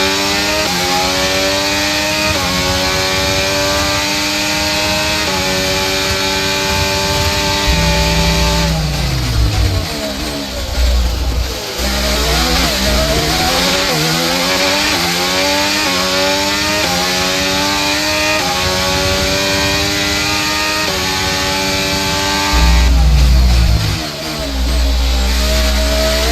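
A Formula 1 car engine in the F1 23 racing game, with some wear on its combustion unit, screams loudly through repeated upshifts, rising pitch sweeps broken by downshift blips under braking before accelerating again.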